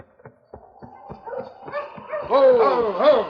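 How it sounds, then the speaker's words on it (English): Husky sled dogs in the Yukon give a run of short yips and barks that rise into louder, overlapping whining howls toward the end, fairly close. "I'll unhitch the dogs."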